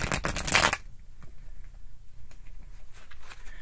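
Tarot cards being shuffled hard, a loud, fast riffle of cards slapping together up close for under a second, then a much quieter stretch of faint handling and light rustling.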